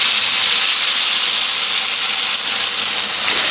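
Ingredients drop into hot cooking oil in a home kitchen and fry with a loud, steady, broadband sizzle and hiss that holds without a break.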